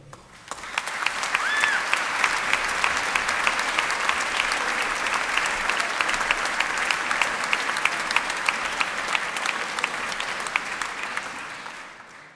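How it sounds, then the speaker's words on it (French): Dense, sustained audience applause at a wind band concert by several Alsatian harmonie ensembles, swelling quickly then holding steady with crisp individual claps throughout before tapering at the end. "Arnaud Meyer, je crois qu'on peut encore l'applaudir une fois"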